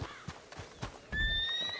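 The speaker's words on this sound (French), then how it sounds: "Si mon cheval accepte de venir." A horse whinnies in a video game, a bright rising neigh with clip-clop hoofbeats beneath and no talk, closing on a sustained sharp tone.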